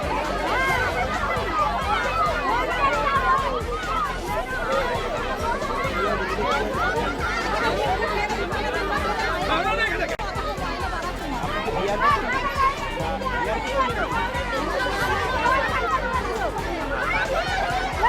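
Crowd of protesting health workers at a road blockade, with continuous loud chatter and babble, scattered shouts and some laughter, no single voice standing out.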